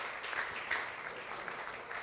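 A church congregation claps together in a brief, steady burst of applause, moderately soft and continuous with no clear speech over it.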